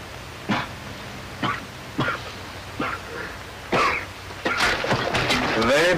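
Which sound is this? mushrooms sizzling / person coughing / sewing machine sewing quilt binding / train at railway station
person coughing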